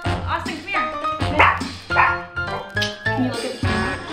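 Puppies yipping and barking in quick, high, irregular bursts close by, mixed with whimpers, while a person talks over them.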